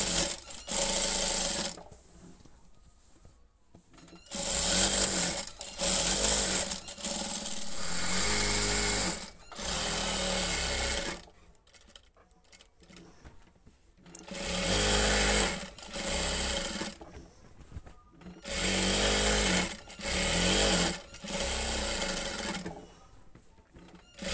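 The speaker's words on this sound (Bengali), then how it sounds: "এভাবে ঘুরিয়ে ঘুরিয়ে সেলাই করে নিব" A sewing machine stitches a jhura kantha quilt in loud, close, rapid bursts of whirring that run for a few seconds at a time, with quiet pauses between them.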